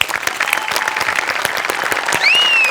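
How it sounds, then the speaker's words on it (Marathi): A studio audience at a Marathi comedy show claps in steady, dense applause throughout, with a rising whistle near the end as the clapping swells slightly louder. "तुझ्यासाठी जोरदार टाळ्या"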